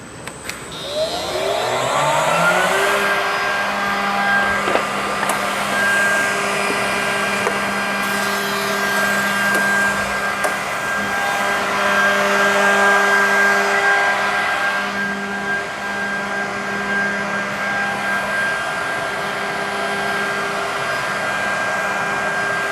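A Holz-Her edgebander's pre-mill station spins up and cuts a panel, its front and back cutters producing a loud, steady whine with high tonal harmonics that holds for a long stretch, then eases slightly near the end.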